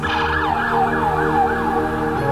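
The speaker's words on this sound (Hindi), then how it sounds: "एम्बुलेंस में अपनी सिस पूर्वी का हाथ थामे रिया मन ही मन में खुद को कोस रही थी" An ambulance siren wails loud and close, its sweeping tone rising and falling continuously without pause and with no voices.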